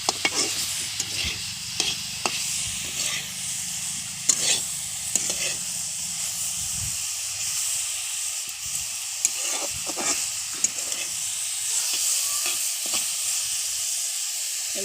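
Drumstick pieces and potatoes frying in a pan give a steady bright sizzle, with periodic scrapes and clinks of stirring, close and alone without talk.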